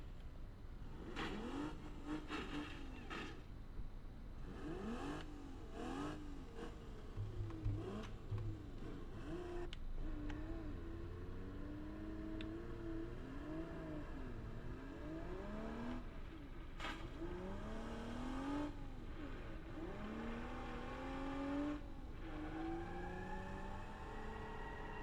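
A BeamNG.drive car tuned toward 1,000 horsepower revs again and again, its engine pitch sweeping up and down in repeated surges over a steady whirring drone with no talking.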